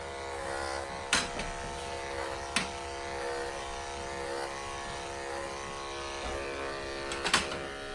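Electric clippers buzz steadily while trimming a Boer goat's hair for a show, with a constant close hum and a few brief sharp knocks or clatters against it.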